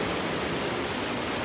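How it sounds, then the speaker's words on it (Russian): Heavy rain pours steadily over a fishing spot, a dense, even hiss filling the whole moment with no pauses or voices. "Там дождь льет сумасшедший."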